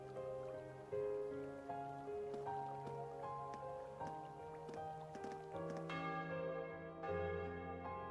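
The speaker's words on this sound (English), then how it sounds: "Fucking bells." Church bells ring continuously in the video game Trails of Cold Steel 3, with overlapping tolls layered in a steady, loud peal that sustains throughout.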